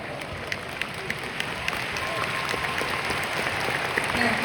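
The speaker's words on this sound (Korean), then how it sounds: "여러분들이 이 앞줄에 있는 리더분들에게 감사의 의미로 박수를 한번 보내주셨으면 좋겠다" An audience at a company seminar applauds the leaders in the front row, steady dense clapping filling the hall throughout, with a few louder individual claps standing out.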